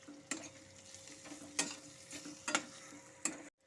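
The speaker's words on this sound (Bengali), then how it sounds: "এখন আমি ভালো মতো করে তেল আর বাটারের সাথে একটু ভাজা ভাজা করে নেব পেঁয়াজটাকেও" Chopped onion fries in oil and butter with ginger and green chilli for paneer fried rice, a faint, soft sizzle punctuated by a few crisp stirring clacks before it cuts off abruptly.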